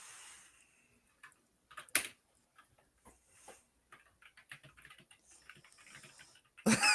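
Light, sparse keyboard typing, faint and intermittent clicks scattered over several seconds with a few louder taps and a brief burst of noise at the end, no talking.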